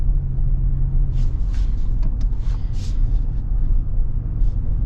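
A 2025 Chevrolet Colorado ZR2 pickup truck on the move, heard from inside the cabin as a steady low engine and road rumble, with faint higher thumps and rattles over the top.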